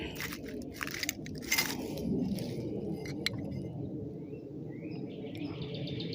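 Broken glass shards and old bottle fragments clink and tick sharply as someone digs through a dump spot along a Texas city creek, small scattered taps over steady outdoor ambience with birds chirping.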